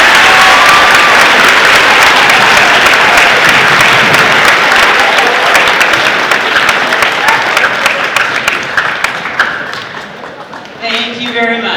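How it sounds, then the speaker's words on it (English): A school assembly audience applauds loudly for about ten seconds, a dense wash of clapping that thins and fades toward the end. "please join me in thanking them for their work to prepare for this event with a"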